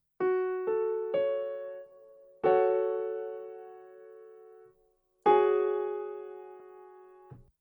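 Bright, sustained synth chords ring out one after another, some short and some held long with slow decays, playing a simple progression on their own.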